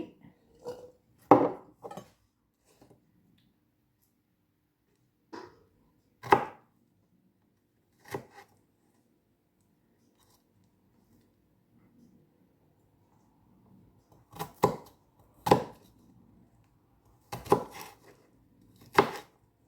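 A knife chops garlic cloves on a board in sparse clusters of crisp, close cuts separated by long quiet pauses.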